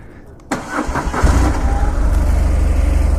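A 2018 Yamaha MT-09 motorcycle engine cranks and catches with a sudden burst, then settles into a steady, deep, close idle rumble.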